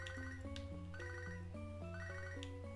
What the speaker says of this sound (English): I'm not answering the phone call.